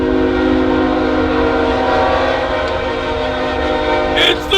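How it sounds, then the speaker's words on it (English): A train rumbles past steadily and loudly near a riverside spot, its horn sounding as a sustained tone throughout, with a brief extra noise near the end. "That's the train."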